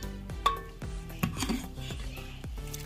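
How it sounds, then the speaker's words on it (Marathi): Chicken soup is ladled out of a cooking pot into another pot, with a run of metal clinks, scrapes and light sloshing at close range and no voices. "तर या सूपला आपण एका दुसऱ्या भांड्यामध्ये काढून टाकू"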